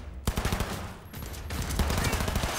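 Rapid bursts of automatic gunfire in the video game Cyberpunk 2077, loud and close, rattling in dense clusters with brief gaps between volleys.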